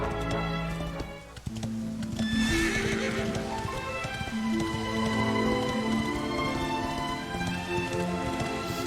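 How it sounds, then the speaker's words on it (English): A horse neighs loudly and shakily in the video game Dragon Quest XI, then hooves clip-clop steadily nearby while music plays underneath. "Oh, my horse is still here."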